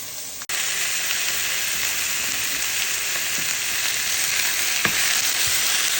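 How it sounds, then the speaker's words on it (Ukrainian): Chicken pieces frying in their own fat with no added oil, a steady loud sizzle with an occasional sharp pop, running continuously throughout. "бачите, присмажується у нас дуже добре"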